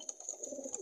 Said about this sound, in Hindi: सारे कबूतर आ गए यहाँ वाले सब बैठे हुए